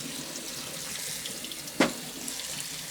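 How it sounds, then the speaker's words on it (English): Running tap water rinsing salted eggplant and zucchini slices in a kitchen sink, a steady close splashing wash with one brief louder splash near the end. "So I'm just going to wash the excess of the salt"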